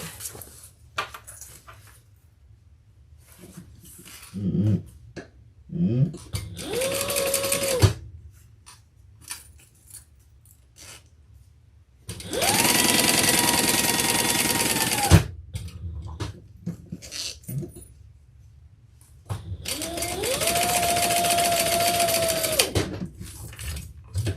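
Several bursts of a sewing machine stitching a Lola handbag, each a few seconds long with a steady mechanical whir, separated by quiet pauses with small handling clicks, close and clear.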